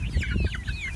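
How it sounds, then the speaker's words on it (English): Backyard chickens clucking nearby at feeding time, a quick burst of several overlapping clucks and chirps, close and fairly loud. "Chickens."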